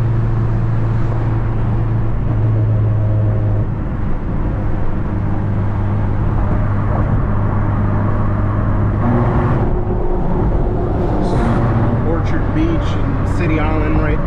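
A 240 hp 2007 Honda Civic Si cruises along the Hutchinson River Parkway, its engine and road noise a steady, close drone throughout, with a voice talking over it.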